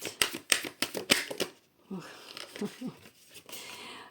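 Tarot cards being drawn and turned over, a quick run of sharp flicks and snaps followed by softer shuffling and sliding of cards on a surface.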